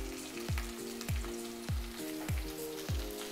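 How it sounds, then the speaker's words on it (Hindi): Roughly crushed garlic fries in a pan for taro root with dry fish, a Northeast Indian dish. A steady hiss of frying runs throughout, with stirring strokes breaking in about every half second and no voices. "अभी मैं इसमें लहसुन जो मैंने रफली कूट के लिया था उसको ऐड करेगा"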